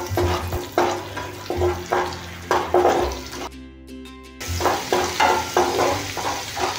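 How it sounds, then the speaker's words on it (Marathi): Ginger-garlic paste frying in butter in a pan, a steady close sizzle with repeated stirring scrapes, briefly broken by a short quieter gap before the frying and stirring resume. "बघा, अद्रक लसूण छान परतून राहिलेली आहे."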